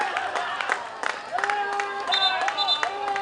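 A Thomian crowd cheering and clapping in a gym at a schoolboys' basketball semi-final between S. Thomas' College and Gateway College in Colombo, a steady roar of voices and applause with a commentator talking over it.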